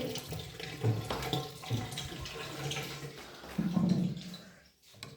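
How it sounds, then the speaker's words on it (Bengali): Rinsing a rice-flour sweet under running water from a tap, a steady nearby splash and trickle lasting throughout, with a heavier gush near the end before it cuts off. "চালের গুঁড়ো মিষ্টিটা একটু ধুয়েই নেই"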